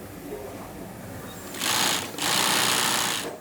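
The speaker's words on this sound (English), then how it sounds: "sews the backs of the ballet shoes together" An industrial sewing machine stitches ballet shoes, running in two loud close bursts of rapid whirring chatter, separated by a brief pause, over a quieter workshop hum.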